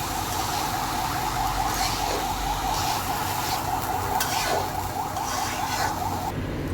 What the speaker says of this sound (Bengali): পোলাওয়ের চালটাকে একটু প্রথমে ভালো মতো ভেজে নিতে হবে।